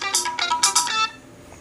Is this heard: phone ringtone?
yes